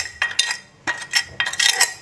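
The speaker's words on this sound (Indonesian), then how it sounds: "Pas aku korek-korek pakai sendok ini" A metal spoon scraping and clinking through fish waste taken from a rubbish bin, producing several short, bright scraping bursts in quick succession, close by and fairly loud with no talk.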